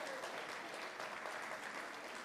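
A festival audience at a French-song contest stage in São Paulo claps for the band's guitarist, a dense, even applause that stays level and fairly soft the whole time, with no voices over it.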